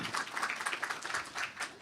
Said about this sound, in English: If I could just please go ahead, applaud.